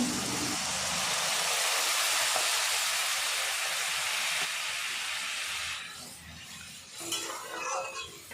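Water poured into a hot pan of rohu fish curry sets off a loud, hissing sizzle that holds steady for several seconds, then dies down to a softer bubbling with light scraping.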